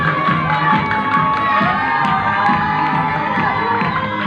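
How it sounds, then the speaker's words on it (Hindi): Children and an audience cheering and shouting at a Christmas gift event, a dense, steady, loud crowd roar with whoops throughout. "जोरदार तालियां बजाएं। तालियां।"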